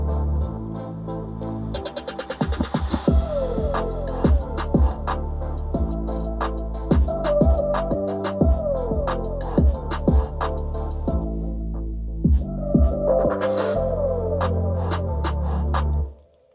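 Full mixed hip-hop beat for the song, punchy drums with deep bass hits and layered melodic synth and percussion elements, loud and continuous before cutting off at the end, no vocals.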